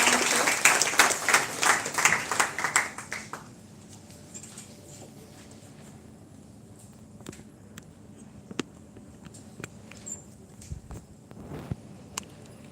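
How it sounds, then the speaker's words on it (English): An audience at a college orientation event gives a round of applause, dense clapping for about three seconds that quickly dies away, followed by a quiet room with scattered faint knocks and taps. "would like to give a round of applause"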